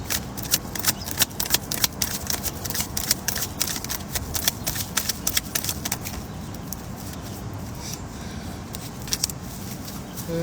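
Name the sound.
shuffling a deck of tarot cards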